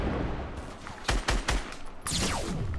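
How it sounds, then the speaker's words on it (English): Rocket missile fire in a video game, several sharp loud blasts in quick succession followed by a whooshing launch sweep, close and dominant. "shoot a rocket missile"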